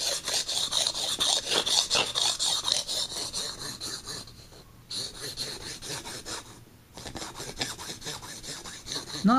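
A blade is honed on a nickel-plated diamond hone, with repeated rasping strokes scraping back and forth in a steady rhythm, close and moderately loud, pausing briefly twice before resuming.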